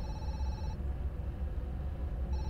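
Telephone in the horror game Zoochosis rings in two steady electronic bursts at the start and end of the stretch, over a low rumbling ambient drone with no talk.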